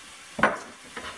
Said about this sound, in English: I'm going to go ahead and add my mushrooms now.